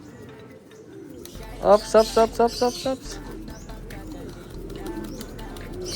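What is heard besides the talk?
pigeons cooing during pairing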